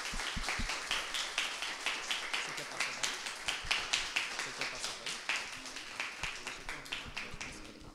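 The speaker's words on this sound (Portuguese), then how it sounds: "vamos recebê-la com uma grande salva de palmas, Mihua." A congregation at a church service claps steadily, many hands beating in a quick, even rhythm, fairly faint and distant in the room.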